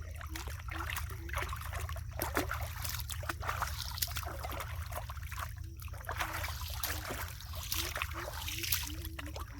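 Retted, blackened sisal fiber is washed by hand in water, with faint, continuous trickling, sloshing and dribbling over a low steady background hum. No one speaks.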